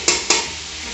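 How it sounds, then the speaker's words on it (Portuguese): Garlic sizzles and fries in oil in a cooking pot, a loud steady crackling hiss at close range with two quick bursts as the food is stirred. "fritando e dando uma selada, nessa panela aqui"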